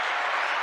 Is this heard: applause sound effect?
yes